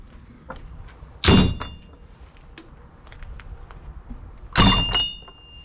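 Two loud, close thuds as a heavy, inside-padded police vehicle door is shut twice, a few seconds apart, with faint rustling and small clicks between them.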